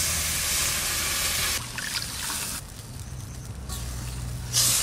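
Water pours into a pan of spices, salt and turmeric being cooked for a chital fish curry, giving a steady close hiss and splash with a couple of shifts in flow and no voices.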